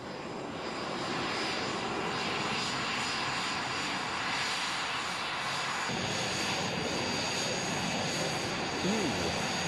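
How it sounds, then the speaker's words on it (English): A helicopter's engine and rotor run up at a departure stand, giving a loud, steady, broadband roar that holds for the whole stretch, with faint radio-like voice traffic blending into the noise. "request engine and rotor start after this stop."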